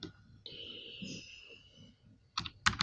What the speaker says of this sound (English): I'll type in another shape